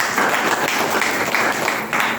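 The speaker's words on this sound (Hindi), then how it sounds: "आप लोगों के लिए एक बार फिर से जोरदार ताली।" An audience at a DXN training session in Jahanabad claps steadily, a continuous patter of many hands at moderate loudness with slight rhythmic swells.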